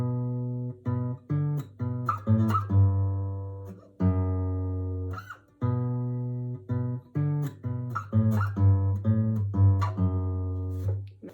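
Guitar plays a riff on single notes, a clear sequence of plucked, sustained tones repeated twice with short pauses between phrases, close and alone with no talk.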